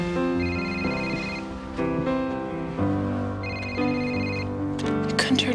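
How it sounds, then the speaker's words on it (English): A cell phone rings in a church with a repeating melodic ringtone, steady and fairly loud, layered over a background music bed. "Turn your cell phone off in a church?"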